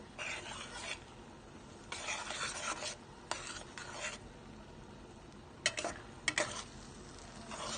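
Chilli powder and turmeric stirred with a spoon in a pan of mustard oil for a hilsa dish, giving a series of faint raspy scraping strokes, some brief clicks, and no talking.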